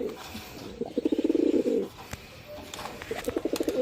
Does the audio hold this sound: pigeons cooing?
yes